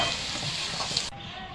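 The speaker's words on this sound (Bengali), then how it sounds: "আমি নাড়াচাড়া করে আলুটা একটু ভেজে নেব" Potatoes sizzle in hot oil in a pan while being stirred, with close scraping and bubbling that drops abruptly quieter partway through.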